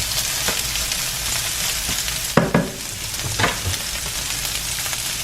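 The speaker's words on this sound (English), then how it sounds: "And stir these shrimp around a little bit more." Shrimp and zucchini sizzle steadily in a hot pan while being stirred, with a few sharp utensil scrapes and knocks against the pan breaking through the constant frying hiss, and no voices.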